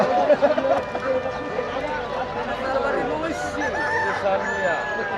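Chickens and a rooster at a traditional weekly rural poultry market in Bangladesh, where ducks and geese are also sold. Repeated clucks and a crow ride over a steady bed of crowd chatter and nearby voices.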